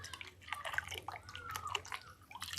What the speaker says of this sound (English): you stir, making sure that the pH down is fully incorporated in the water